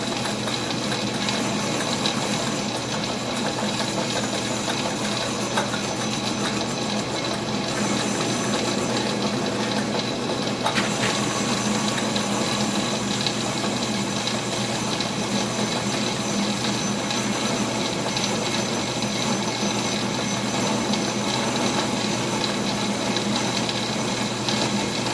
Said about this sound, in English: We're going to use Jeans lathe.